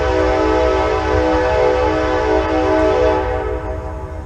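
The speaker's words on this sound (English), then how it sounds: "I need to get away from these trains. They're extremely loud" A train sounds its horn up close in a city rail area, a loud, sustained multi-tone blast over deep rumbling that fades slightly toward the end.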